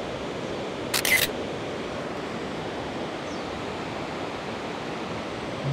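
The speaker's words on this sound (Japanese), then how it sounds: "すげえ滝やな。" A waterfall in the Osugidani gorge roars as a steady, broad wash of rushing water that holds constant throughout, with a short sharp click near the start.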